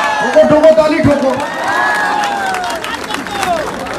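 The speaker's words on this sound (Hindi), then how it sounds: "ठोको ठोको ताली ठोको" A political rally crowd claps, cheers and whoops loudly, with rising shouts and a burst of applause filling the space close by.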